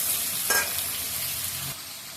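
Pointed gourd and pumpkin fry in a pan, a soft steady sizzle with a brief scraping stir early on, fairly quiet and with no talking.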